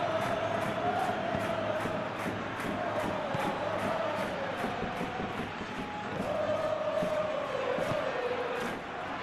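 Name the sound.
crowd cheering in video game PES 2021 football match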